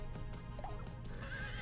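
A horse neighs in the Miitopia video game, a short rising whinny close to the listener, heard over busy game music.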